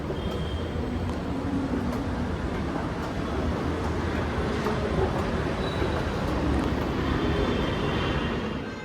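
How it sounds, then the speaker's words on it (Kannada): Steady, loud rumbling roar of a metro train at Peenya metro station in Bengaluru, filling the whole stretch with a continuous broadband wash of rail and station noise and no talking. "ಇದು ಪೀಣ್ಯ ಮೆಟ್ರೋ ಸ್ಟೇಷನ್"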